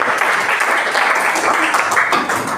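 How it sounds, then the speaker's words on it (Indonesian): Classroom applause for a student discussion group about to present, dense clapping throughout with voices mixed in underneath. "Beri tepuk tangan dulu untuk kelompok 1."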